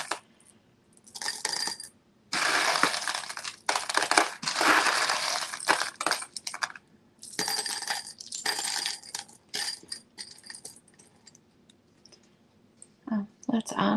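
Buttons and glass beads, including a button bead and a metal piece, being sifted and handled, giving bursts of clattering clicks and rattles in close, uneven waves with pauses between them.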